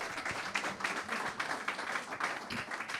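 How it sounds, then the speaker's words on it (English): Audience applause at a live talk at Lucille's, a faint but dense, steady patter of many hands clapping, with no one speaking over it. "A round of applause for Kyle."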